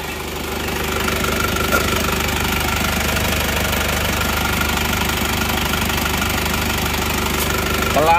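Isuzu Panther L 1740 diesel engine idling rough in a workshop, a loud, close, steady knocking clatter with a constant low drone and vibration, no talking.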